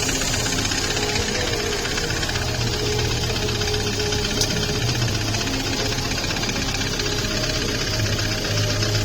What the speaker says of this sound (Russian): стучит мотор